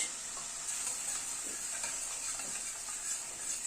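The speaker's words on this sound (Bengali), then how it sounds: "সব দিয়ে মশলাটাকে আবার একটু কষিয়ে নিচ্ছি।" Spice paste of yogurt, ginger paste, green chili paste, Kashmiri red chili powder, turmeric and salt fries in a pan for a rohu fish curry. A soft, steady sizzle with light stirring scrapes runs throughout at low volume.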